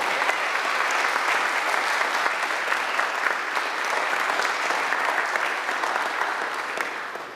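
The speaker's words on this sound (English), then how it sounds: "Don't you think he deserves another round of applause for that?" A large audience applauds a choir soloist with steady, dense clapping that holds at even loudness throughout, fading slightly at the very end.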